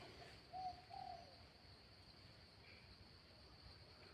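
A dove coos softly twice in quick succession early on, faint and somewhat distant over a steady outdoor background hum with insects.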